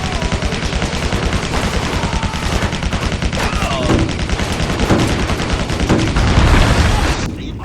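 Rapid, continuous gunfire rattles through a Barrage Attack in the video game Stranglehold, dense bursts of shots and booms stacking loudly with game effects layered throughout.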